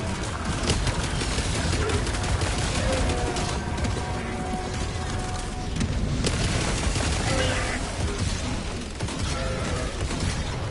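Mortar sentries firing in Helldivers, with repeated thudding launches and blasts mixed into a dense, continuous din of gunfire and battle noise, loud and unbroken from start to finish, with players talking over it.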